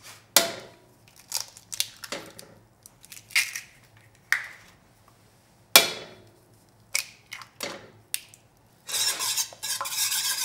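Eggs and salt stirred by hand into a bread dough mixture in a bowl, irregular close scraping and clacking strokes, some quick and sharp, with a brief rougher stretch near the end.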